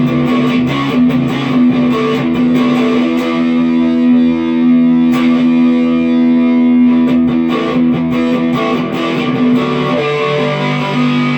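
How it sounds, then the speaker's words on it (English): A continuous, loud electric guitar through a tube amp, on the bridge pickup with overdrive and boost, plays thick sustained chords and notes with a gritty, boosted tone and no pauses. "Add a little overdrive and boost."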